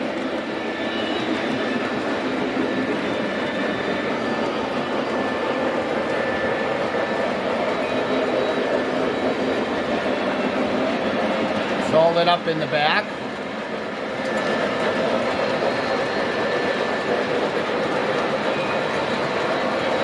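Several model train engines run on a home layout, giving a steady, even mechanical hum and rumble throughout, with a short burst of louder clicking near the middle and someone talking over it.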